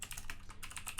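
Rapid keystrokes clatter on a computer keyboard in a short, steady burst of close, crisp clicks with no voices.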